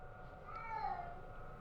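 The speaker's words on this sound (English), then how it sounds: "That's the cat." A domestic cat gives a single faint, drawn-out meow in the background of a quiet room, rising and then fading away.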